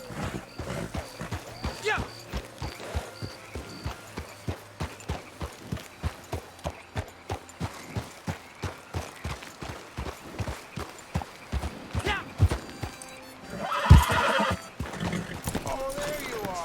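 Horse hooves clip-clop steadily at a quick, even gait in the Red Dead Redemption 2 video game, with a loud neigh near the end, all under ambient game sound.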